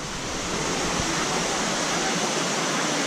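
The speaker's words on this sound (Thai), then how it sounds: "น้ำตกวังก้านเหลืองนะครับ ตำบลท่าหลวงนะครับอำเภอท่าหลวงจังหวัดลพบุรีนะครับ" Wang Kan Lueang waterfall in Tha Luang, Lopburi, flowing heavily in the rainy season, a loud, steady broadband rush of falling water that fills the whole stretch without a break.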